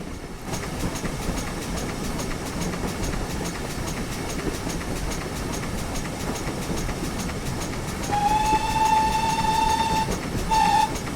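A GWR 9400 pannier tank steam locomotive in a Train Simulator game, with rhythmic rail clatter throughout and then a shrill whistle sounding in two blasts near the end, loud and close.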